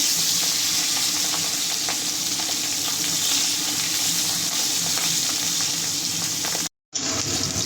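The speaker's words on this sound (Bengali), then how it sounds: "মাছগুলো ভালোভাবে ভাজা হয়ে গেছে," Fish frying in hot oil, a dense, even sizzle sustained close up for several seconds before a short cut, no voices.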